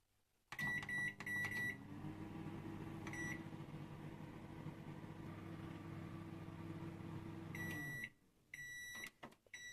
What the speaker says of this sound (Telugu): సో ఈ విధంగా ఈ బౌల్ని మైక్రోవేవ్లో పెట్టి కొన్ని నిమిషాలు